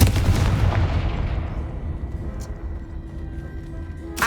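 A Confringo blasting spell explodes in Hogwarts Legacy as one heavy, close boom that rolls out into a long fading rumble, with a faint crackle later.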